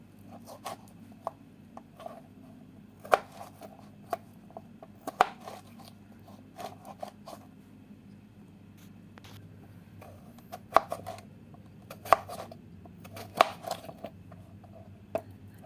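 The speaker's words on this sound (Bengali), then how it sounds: "খুব সুন্দর করে স্লাইস করে নেবেন।" Potatoes being sliced with a knife for French fries, a series of irregular crisp cuts and taps on a board, fairly close over a quiet low background hum.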